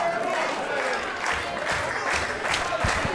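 A crowd at an Elevation Wrestling show claps and cheers in a steady, continuous roar of applause filling the arena.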